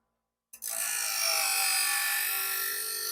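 A really dull knife is sharpened in passes, heard as a steady, close, continuous grinding buzz that starts abruptly and holds evenly to the end, with no talking.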